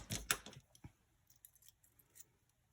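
Scissors give a few quick, close snips as they trim a tiny piece of leftover polymer clay, followed by faint light handling noises in a quiet room.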